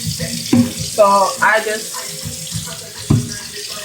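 Water runs from a kitchen sink tap while a container is rinsed, a continuous splashing flow with thumps and clatter, and a person speaks briefly over it.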